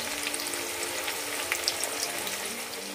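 Frying in oil over a high flame, part of cooking a Kolkata-style chicken biryani with potato and egg, gives off a continuous, even hiss of sizzling at moderate level with no talk.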